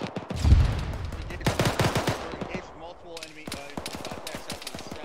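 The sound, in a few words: gunfire in video game ArmA 3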